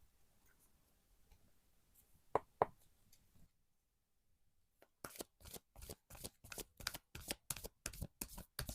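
Tarot cards handled quietly with a couple of light taps, then after a brief silence a rapid run of crisp, rhythmic riffle-shuffling snaps close by, no one talking.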